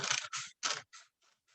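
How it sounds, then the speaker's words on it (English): Scissors snip through a paper plate to cut out a circle, giving several crisp, close cuts in quick succession that fade into lighter, quieter snips. "I'm just cutting circle shape out, like so."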